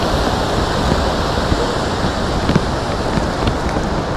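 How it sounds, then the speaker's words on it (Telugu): Heavy runoff pours down from the Himalayan hillsides along the Kedarnath trek in monsoon rain, a loud continuous rushing wash with faint wind buffeting and a few small knocks, no voices. "ఆ కొండల్లోంచి ఎంత నీళ్ళు వస్తుంటాయి చూడండి"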